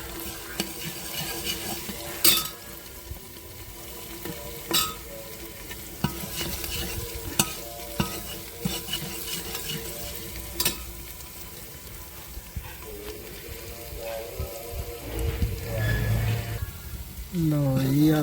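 Chopped ginger and garlic fry in a pan with a constant sizzle, punctuated by repeated sharp knocks and scrapes of a spoon against the pan, and a voice speaks near the end.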